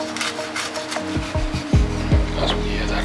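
Close crunching and rasping as a knife cuts through crispy beer-battered deep-sea fish, a scratchy dry crackle with a few sharper snaps, near and loud, with no speech.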